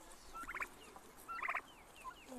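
Two rapid, bubbling gobbles from turkeys, spaced about a second apart, fairly close against quiet outdoor background with faint birdsong.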